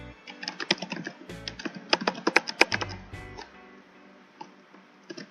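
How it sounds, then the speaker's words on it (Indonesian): Quick, uneven keystrokes clatter on a computer keyboard up close, in bursts with short pauses, then trail off into a few isolated taps. "Kita bisa mengetik seperti biasa secara konvensional."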